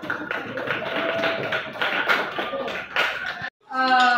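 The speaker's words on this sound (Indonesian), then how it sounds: "tepuk tangan untuk kelompok" A small group of students in a math class claps in quick, uneven taps for a few seconds, then stops abruptly before a burst of other sound.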